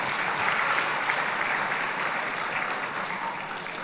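An audience at a National Civics Bee event at the Nixon Library applauds steadily, a dense wash of clapping that holds for a few seconds and eases slightly at the end.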